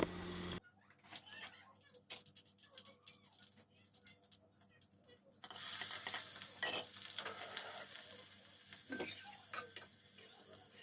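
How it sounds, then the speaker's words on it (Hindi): Lentils (dal) being tempered and fried in a pan, a faint crackle for several seconds with scraping stirs, then a louder steady sizzle with scattered spits and pops. "और दाल छौंक दी थी,"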